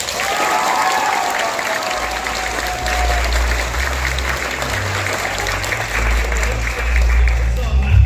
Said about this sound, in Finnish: Sitten annetaan vielä yhteiset aplodit meidän ysien lemppariopettajille.